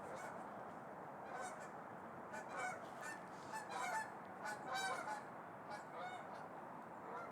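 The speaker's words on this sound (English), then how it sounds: "It's geese." A flock of geese honks repeatedly over a steady outdoor hiss, calls overlapping in bursts throughout, fairly distant.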